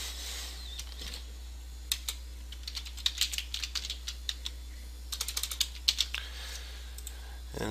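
A computer keyboard being typed on while text is entered into a WYSIWYG web page editor: sparse single keystroke clicks, then quick close bursts of tapping, crisp and near over a quiet room.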